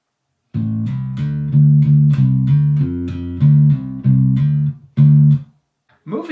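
A funky, syncopated bass guitar riff using hammer-ons, pull-offs and slides: a string of clear plucked notes in a bouncy, stop-start rhythm, played alone and up close.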